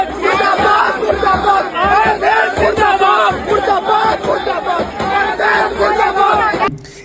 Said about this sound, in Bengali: মানে আরএসএস মুর্দাবাদের স্লোগান দিচ্ছে।